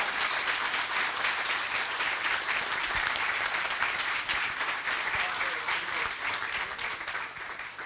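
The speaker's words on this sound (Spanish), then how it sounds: "un aplauso a todos los que dieron su testimonio." An audience at a results presentation on livestock farming and climate applauds those who gave testimony, with a dense, sustained wash of many hands clapping that holds steady and tapers slightly at the end.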